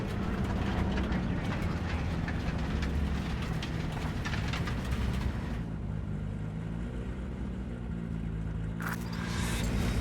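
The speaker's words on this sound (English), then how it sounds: "maybe we should just hijack the train" Train in Cyberpunk 2077 rushing past with a loud rumbling roar and rattling, heaviest in the first half before easing to a steadier, lower drone, no speech.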